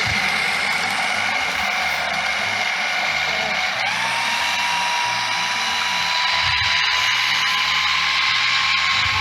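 A blender processes flaxseed or chia seed for a healthy nut-based dish, giving a loud, steady motor whine and grinding roar that runs unbroken, with a slight shift in pitch partway through.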